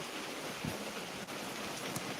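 Gentle summer rain pattering steadily, a quiet continuous hiss with a few slightly louder drops.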